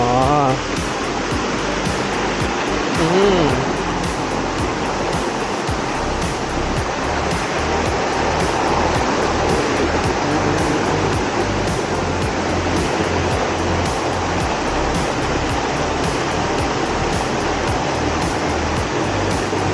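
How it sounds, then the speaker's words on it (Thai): Mae Ramoeng waterfall pours steadily down from the hills, a dense, continuous rushing roar of falling water that stays close and loud throughout, with a brief murmur of a voice near the start. "ดูว่าน้ำตกมันลงไปทางไหน"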